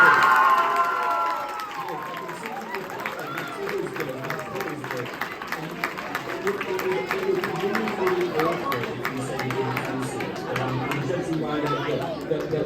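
A large crowd reacting to news of a trip to the London New Year's Day Parade 2024, with a steady roar of excited chatter, shouts and cheering, scattered clapping mixed in, and voices talking throughout.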